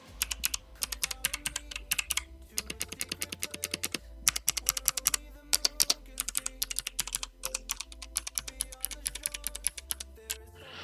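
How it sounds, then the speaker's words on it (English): Rapid, continuous clacking of a Fantech MK885 Optimax optical mechanical keyboard being typed on, close and crisp, with short pauses between bursts. "let's start with the sound test of the Optimax mechanical keyboard"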